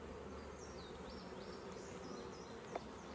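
Honey bees buzz around an open hive during a frame inspection, a steady faint drone with individual bees whining past, and a brief tap near the end.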